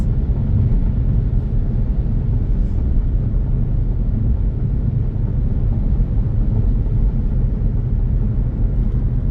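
Interior cabin noise of a 2014 Volkswagen Passat cruising at 60, a loud, steady low rumble of road and engine drone with no breaks or talk.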